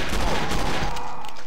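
A shotgun fires in the video game Doom 2, a loud booming blast with a rolling tail that dominates the short moment.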